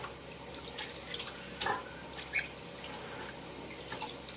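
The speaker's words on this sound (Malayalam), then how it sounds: "3 പ്രാവശ്യം നല്ലതുപോലെ കഴുകി വാരുക." Tapioca pieces are washed in a vessel of water, giving faint, sparse splashes and drips close by in an otherwise quiet setting.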